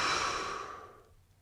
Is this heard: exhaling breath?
yes